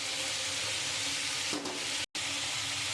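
Ground spices for a Bengali fish curry (মাছের ঝোল) with salt, turmeric, cumin and chili powder frying in a pan, a steady broadband sizzle throughout with a brief stir and a short cut near the end.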